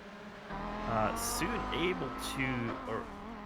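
Race cars in the iRacing game at the Detroit Grand Prix brake into turn 9, their engines revving and falling in pitch as they slow, with a commentator talking over them.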